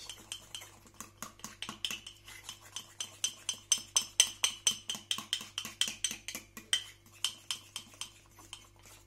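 A metal spoon stirs an unsweetened cocoa powder mixture in a cup, clinking against the sides in a steady rhythm of about two dozen strokes, close and fairly quiet, with no talking.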